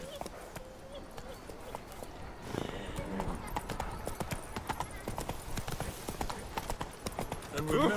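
Roach the horse's hooves clip-clop in The Witcher 3 video game, a steady trotting rhythm of quiet thuds running throughout, mixed with game ambience and a voice speaking over it.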